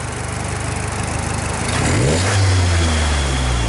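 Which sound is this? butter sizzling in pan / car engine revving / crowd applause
car engine revving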